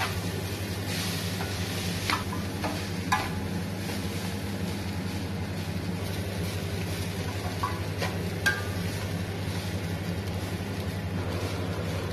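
A steady sizzle of ragi vermicelli frying in a pan, with occasional scraping stirs over a low background hum.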